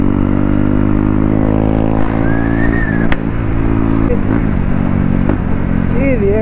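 A BS4 motorcycle engine holds a loud, steady high-RPM drone throughout, rough and continuous with slight wavering in pitch.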